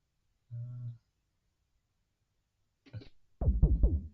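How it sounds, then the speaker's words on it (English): Weird synthetic effect sounds from an Arturia MicroFreak synthesizer: a short buzzy tone, then silence, a brief scratchy burst, and a loud run of squelchy, pitch-sweeping blips heard alone. "This thing is pretty great for weird effect sounds like this."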